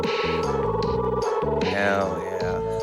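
The Booskaboo vehicle in the video game Trials of Mana honks with turbo engaged, giving a loud, close run of rapid repeated electronic horn-like tones mixed with game music, with no speech over it.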